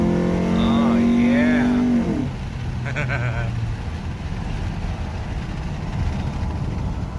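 A 2002–2006 Nissan Altima 2.5 with a cold air intake accelerating in second gear, heard through an open window from inside the car as a loud, steady engine drone that rises in pitch, then drops as it shifts, with road noise continuing after.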